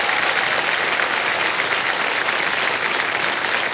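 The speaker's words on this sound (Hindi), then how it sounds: "ताली बजती रहे इनके लिए." Sustained studio audience applause at a KBC game show, dense and steady throughout at close range, with no talk over it.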